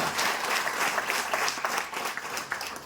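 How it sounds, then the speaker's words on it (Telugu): Steady audience clapping from a live crowd, fairly even and sustained throughout with scattered sharper individual claps, moderately loud. "మీరు గట్టిగా క్లాప్స్ ఇస్తే చెప్తా"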